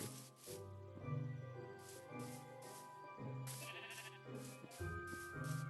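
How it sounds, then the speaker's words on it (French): Sheep in Minecraft bleat repeatedly, several short wavering bleats close by in a game scene, with a steady background tone and no talk over them. "il y a un mouton tout proche,"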